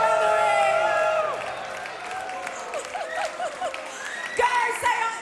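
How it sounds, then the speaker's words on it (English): Ringside crowd at a chessboxing title show applauding the fighters, steady clapping and cheering that gradually thins, with scattered whoops and shouts near the end. "Go say, the crowds are clapping you."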